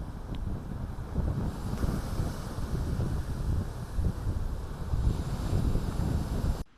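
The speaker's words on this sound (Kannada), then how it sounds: "ಗಾಳಿಯ ಆರ್ಭಟ ಮತ್ತು ಅಲೆಗಳ ಅಬ್ಬರ ಏನು ಸಮುದ್ರ ತೀರದಲ್ಲಿ ಇನ್ನೂ ಕೂಡ ಕಡಿಮೆ ಆಗಿಲ್ಲ" Strong wind roars steadily with a continuous low rumble of surf on a shore during sea erosion in Udupi, a dense, loud, unbroken wash of noise throughout.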